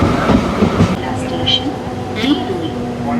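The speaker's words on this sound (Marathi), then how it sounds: "तर आता आपली ट्रेन नेरूळला पोचते." Mumbai local train on the Panvel–Thane Trans-Harbour line pulling into Nerul station, a steady rumble of rolling carriages with brief metallic squeals, heard from inside the coach under light background voices.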